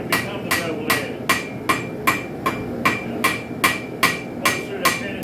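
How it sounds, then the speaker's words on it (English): A hammer forging a spike into a knife blade on an anvil, striking about twice a second in a steady rhythm of bright metallic rings over a low workshop background, close and with no one talking. "You can hear what I'm saying about the hammering."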